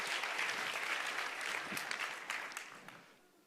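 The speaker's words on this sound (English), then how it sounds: "Round of applause, I think." A conference audience at a Scala programming talk applauds after a live demo, a dense burst of clapping that thins and fades away over the last second.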